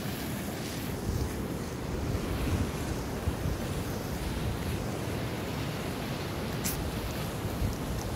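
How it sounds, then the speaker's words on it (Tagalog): Strong sea waves wash continuously near a boat, with heavy wind buffeting the microphone in a constant roaring rush throughout, and no voices. "Ang tubig. Ang lakas ng tubig dyan."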